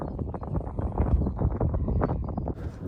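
Gusty wind buffeting the microphone on the slopes of Caer Caradoc hilltop near Church Stretton, a loud irregular rumbling roar throughout with no voices.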